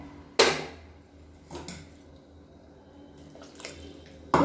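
Water rinsed out of a mixer grinder jar is poured into a spicy roasted-and-ground lima bean kara kulambu curry, with a few short splashes and a quieter trickle between them.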